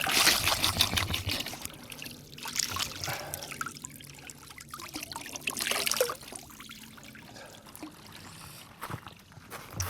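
Cold water trickling and splashing from a drinking fountain on an evening bike ride, a steady close dribble with a few louder pours, no voices.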